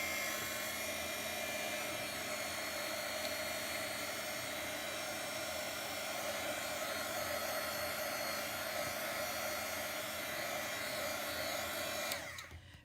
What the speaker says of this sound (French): Mon heat gun, je vais devoir le passer un peu avant pour être certaine qu'il ne va pas